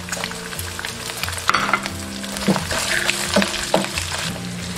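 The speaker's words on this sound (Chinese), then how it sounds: "锅里面倒一点点食用油就好了，然后下入肉片煸炒" Pork slices stir-fried in a little cooking oil in a wok, a steady close sizzle with scraping spatula strokes and clatters breaking through the frying at irregular intervals.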